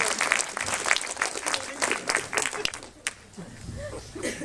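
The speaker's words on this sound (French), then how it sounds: "on l'applaudit bien fort" A crowd at a talk breaks into brisk applause that fades after a few seconds, with voices murmuring and speaking as the clapping tails off.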